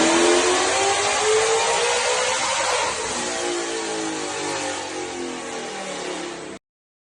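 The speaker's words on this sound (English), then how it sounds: "And here's the dyno pull, and here is the dyno graph." A supercharged ESS Mustang engine revs hard on a dyno in a loud, sustained pull, its pitch rising with a whining blower note, then falling slightly before cutting off abruptly.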